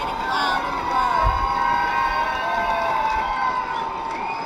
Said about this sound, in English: As you can hear our fans here at the Upland Highlanders Stadium getting loud in the crowd.